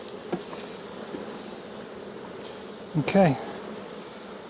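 Honeybees buzzing as a nuc is dumped into an old hive, a steady low hum throughout with a brief louder burst partway through and a short spoken word.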